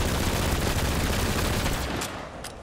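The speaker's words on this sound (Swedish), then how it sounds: "titta på skotten när jag skjuter" Dense, rapid gunfire crackles in a continuous burst from the video game Borderlands 3, loud and unbroken before tapering off near the end.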